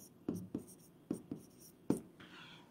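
Chalk or marker writing on a board during a physics lecture, a series of about five quiet, sharp scratching strokes in an uneven rhythm, close and faint, with a little voice at the end.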